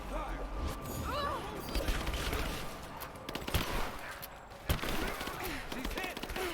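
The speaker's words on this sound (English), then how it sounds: "Laying down covering fire." Rise of the Tomb Raider firefight: scattered bursts of gunfire and sharp impacts mixed with game voices talking, at moderate distance under a busy background.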